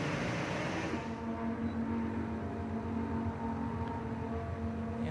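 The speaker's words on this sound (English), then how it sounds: "listen to the sound of this McLaren as it navigates the stadium section." A McLaren race car engine drones steadily through the stadium section at COTA during a GT1 Sports Club x Hypercar Invitational session, a sustained mid-distance tone that shifts slightly in pitch.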